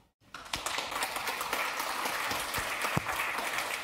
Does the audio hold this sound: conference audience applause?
yes